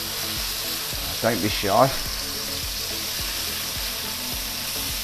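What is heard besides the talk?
beef cheeks searing in a red-hot pan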